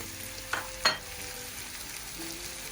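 Steady sizzling of food frying in a pan, with a couple of sharp clinks or stirring knocks near the start.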